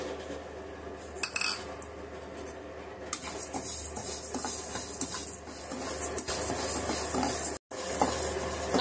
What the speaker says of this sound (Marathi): आता आपण उडदाची डाळ भाजून घेऊया।